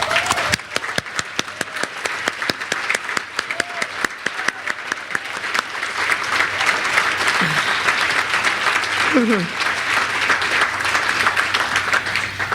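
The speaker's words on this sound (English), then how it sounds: "If she can stand up, we can give her a round of applause." Audience at a Mercy College award event applauding, sustained dense clapping that builds and holds, with a few short voices calling out over it.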